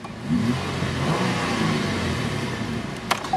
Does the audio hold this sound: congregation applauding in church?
no